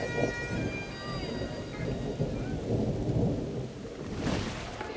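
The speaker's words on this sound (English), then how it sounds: "moments later the skies open and down comes the dreaded rain" Heavy rain pouring at an outdoor wedding as a thunderstorm breaks, with a dense steady downpour hiss, low thunder rumbles and a brief louder burst near the end.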